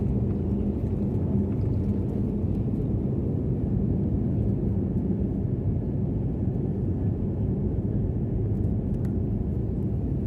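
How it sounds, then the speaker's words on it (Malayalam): An IndiGo airliner in flight from Mumbai to Hyderabad fills the cabin with a steady, low, broadband engine and air roar that holds constant throughout, with no voices. "നമ്മുടെ ഇൻഡിഗോ വിമാനം അങ്ങനെ ബോംബെയിൽ നിന്ന് ഹൈദരാബാദിലേക്ക് പോവുകയാണ്."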